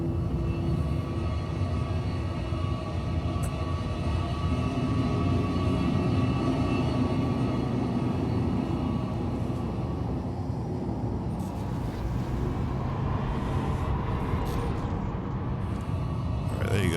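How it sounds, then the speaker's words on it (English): Spaceship braking thrusters in Star Citizen firing during a turn-and-burn maneuver in a large ship, heard as a steady heavy roaring rumble that surges near the end, with someone talking over it. "those are braking thrusters to basically push me the other way"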